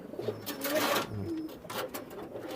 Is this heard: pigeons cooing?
yes